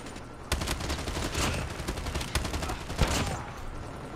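Continuous bursts of HG40 submachine gun fire from the mobile shooter game Call of Duty Mobile, rattling rapidly at moderate volume with a few sharper shots standing out among the steady fire.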